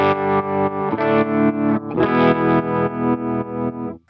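Electric guitar played through an Electro Harmonix Stereo Pulsar tremolo pedal, a distorted sustained chord pulsing rhythmically in volume at a steady rate, with one chord change midway before it cuts off.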